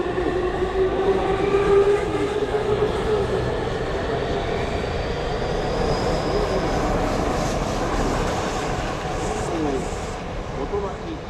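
A Tokyu Toyoko Line train moves through Tamagawa station in a sustained loud rumble with rising and falling motor whine, while a platform announcement plays over it.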